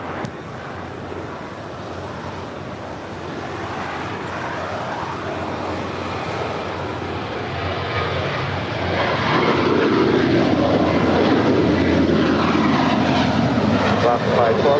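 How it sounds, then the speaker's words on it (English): A departing Alaska Airlines Boeing 737-900ER jet at LAX gives a steady broadband engine roar that swells louder after the midpoint and holds near, with faint voices and radio chatter beneath. "That was Alaska Airlines, the 737-900ER."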